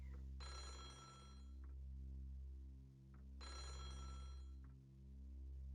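A telephone rings in the Otogirisou video game, sounding two clear bursts of trilling bell rings with a steady pause between them over a low, continuous hum.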